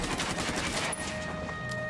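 Gunfire in the video game Ghost Recon Wildlands, a dense burst of rapid shots in the first second, then quieter scattered game noise, with no talk.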